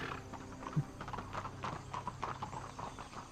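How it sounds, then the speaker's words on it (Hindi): A walking horse's hooves clip-clop in an uneven rhythm at moderate distance, with a brief whinny-like sound mixed in under faint background noise. "वो घोड़ा सीधा चलने की जगह ऐसे टेढ़ा चल रहा है ना"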